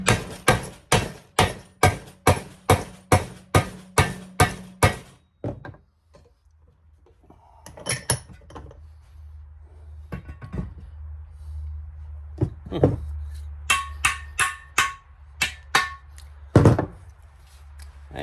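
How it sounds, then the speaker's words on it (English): A sledgehammer strikes a metal camper support in a fast run of about a dozen loud, evenly spaced clanging blows, then after a pause comes a scattered series of heavier single hits and short bursts, close and ringing. "this might be a good idea to get my sledge so I can get a pretty good 90 in there"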